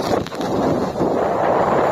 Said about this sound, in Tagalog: Lakas ang hangin sa taas.